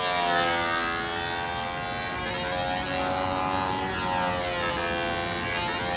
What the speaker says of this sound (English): Except for the engine not having any power. Right there it seems to die.